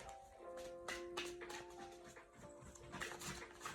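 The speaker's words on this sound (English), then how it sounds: "That's my dog." A dog pants quickly and rhythmically close by, faint overall, with a few light taps underneath.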